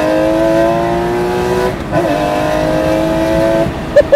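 Guntherwerks Porsche 993 Speedster with a manual gearbox, engine revving hard toward its 7,800 rpm limit, loud, close and sustained, with a brief dip and a climbing pitch before it drops off.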